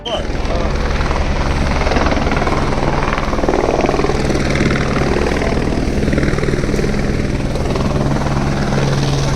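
Helicopter flying near the Panchtarni landing area in the Himalayan mountains, a loud, steady rotor thrum and engine drone filling the whole stretch, with a person talking over it.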